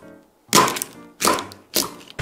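Three heavy, sharp kitchen knife strikes crack through a giant hermit crab's hard shell at an even pace, each a loud close thunk fading quickly into silence.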